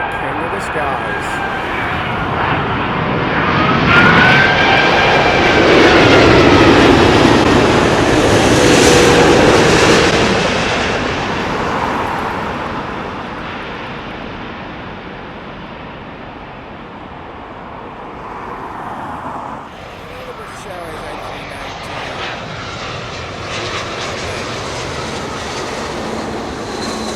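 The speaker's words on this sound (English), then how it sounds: "we have a Dreamliner 787-9 United Airlines" A United Airlines Boeing 787-9 Dreamliner passes at Heathrow, its engine roar swelling to a broad peak and then easing into a lower steady rumble, with people talking over it.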